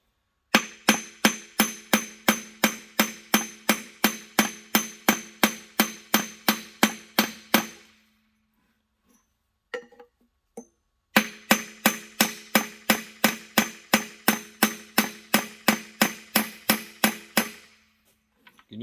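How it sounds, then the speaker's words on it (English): Rapid, steady metal-on-metal hammer taps on a 1950s Wards lawn mower, roughly two strikes per second in two long runs separated by a brief near-silent pause, close and fairly loud with sharp ringing attacks. "I'm just going to give it a little pressure as I tap on it."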